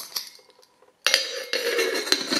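Light metal clinks and rattles as a 175-gram Helikon camp cooking cup with fold-out handles is handled, a few faint taps at first, then louder close-up scraping and clattering of metal.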